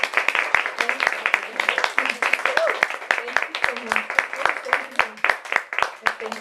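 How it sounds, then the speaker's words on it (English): An audience at a literary author talk claps steadily for several seconds while voices carry on over the applause. "let's give another round of applause for Guadalupe."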